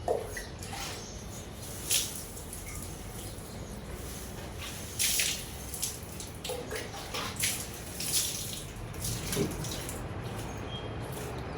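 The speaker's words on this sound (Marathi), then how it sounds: "सगळ्या गॅलरीमध्ये माती झाली होती, तर मग मी गॅलरी पण पटकन धुवून घेतली." Water splashing and washing across a balcony floor dirtied with potting soil, a steady wet hiss with intermittent louder splashes and sloshes, close and without talk.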